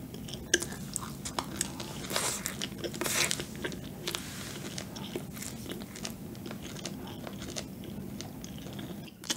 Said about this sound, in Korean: 빵이 이 무지개 애들보다 조금 더 오랫동안 씹어야 되네.